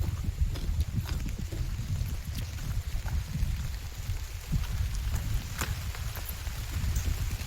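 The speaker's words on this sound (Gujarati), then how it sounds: "વરસાદ પડે છે" Steady rain pours down on a farm, a dense continuous patter with scattered heavier drops, even in level throughout with no voices.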